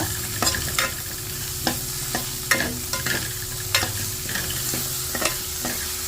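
Chicken stew mixture with vegetables stirred in a pan over a medium flame, a steady low sizzle broken by repeated scraping clinks of the spoon against the pan, close up with no talking.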